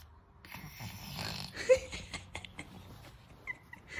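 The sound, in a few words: child imitating snoring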